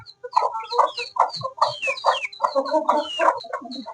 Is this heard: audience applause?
no